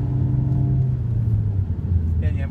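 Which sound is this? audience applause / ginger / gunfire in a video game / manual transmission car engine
manual transmission car engine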